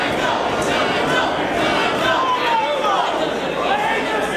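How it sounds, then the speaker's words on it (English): Crowd at a Ring of Honor professional wrestling event cheering, a steady loud roar with shouts and chatter mixed in, continuing under the talk throughout. "Crowd getting behind Lethal."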